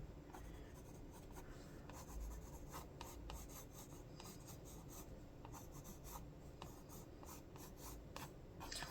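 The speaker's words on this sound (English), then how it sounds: "One of the nice things about colored pencils is you can get a lot of texture." Colored pencils sketching mushrooms on paper, a quiet, close, continuous scratchy rubbing with quick back-and-forth strokes and short repeated hatching bursts, steady throughout and without talking.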